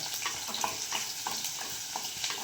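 Garlic and green chillies sizzle steadily in oil in a pan for egg curry, with a constant close crackle and light stirring scrapes.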